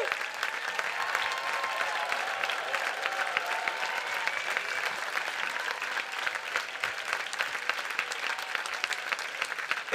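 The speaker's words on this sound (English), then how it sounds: "How about you applauding them" A hall audience claps for science and bio-engineering graduates at a university graduation ceremony, a continuous wash of dense applause at even loudness throughout, with no speech on top.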